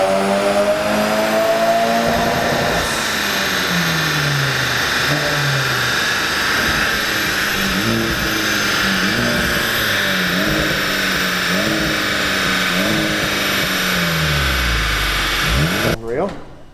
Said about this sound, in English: We've just done our first pull on dyno there after fitting the induction kit